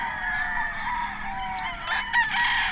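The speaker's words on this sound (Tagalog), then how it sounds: "Ang daming manok dito." Chickens and roosters on a large farm, a near rooster crowing in a long raspy call while other fowl cluck and crow behind it.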